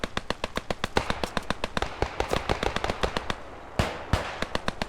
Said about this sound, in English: I can hear gunshots already in the middle.